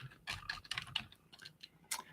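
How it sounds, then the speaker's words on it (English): Quiet bursts of typing on a computer keyboard, with irregular clusters of clicky keystrokes and short pauses between them, heard alone with no talking. "nothing wrong with typing"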